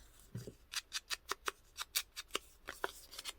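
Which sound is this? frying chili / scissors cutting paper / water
scissors cutting paper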